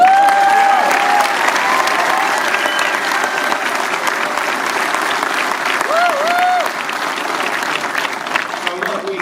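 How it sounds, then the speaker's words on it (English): Political rally crowd in Traverse City, Michigan, giving a sustained round of applause for a former chair, dense clapping that fades gradually, with a speaker's voice over it. "Can you give her a round of applause?"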